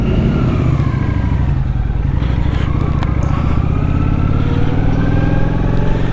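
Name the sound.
Kawasaki Vulcan 900 Custom motorcycle engine starting and running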